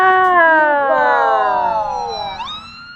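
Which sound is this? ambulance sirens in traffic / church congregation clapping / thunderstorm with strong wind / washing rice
ambulance sirens in traffic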